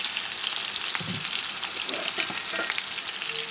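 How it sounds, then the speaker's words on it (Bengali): Potatoes frying in a pan, a steady broadband sizzle with a few soft clinks of a utensil stirring, close and continuous, no voices. "আলুগুলো ভালো করে ভাজতে হবে, সুন্দর করে লাল লাল করে"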